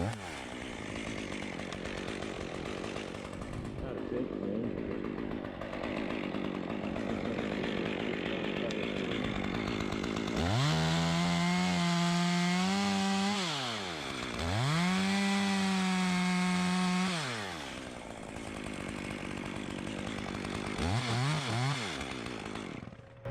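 A chainsaw cuts a hinge into a dead ash tree during a rigging removal, the engine revving loudly in two long sustained cuts with idling and throttle blips between them, close and dominant with no talk.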